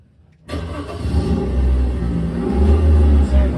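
During a comedy hypnosis show at a high school, several voices imitate a car engine starting and revving, a low rumbling drone that starts abruptly and swells steadily louder.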